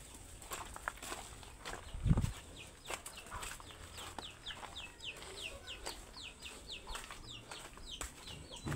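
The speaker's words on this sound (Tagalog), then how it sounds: "Manok." Soft, scattered clucking from native chickens in a nearby coop, quiet and intermittent against a faint outdoor background with occasional light rustling.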